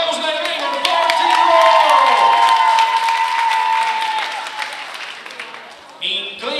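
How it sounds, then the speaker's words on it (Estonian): A crowd at the Noored Tähed 2012 youth talent show claps and cheers, with loud sustained applause and a voice over it, tapering before an announcer speaks again near the end. "Suur suur aplaus"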